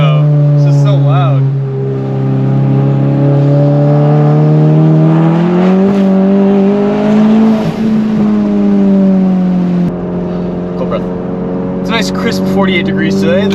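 A VW GTI fitted with an IS38 turbo does rolling burnouts in the rain, its engine a loud, close, sustained drone that swells and eases in pitch as the revs shift.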